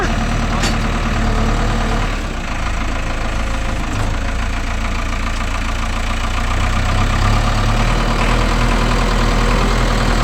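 A Mahindra Yuvo Tech Plus 585 4WD tractor engine runs steadily and loudly close by, a continuous low diesel rumble with a knocking chug that holds unchanged for the whole stretch.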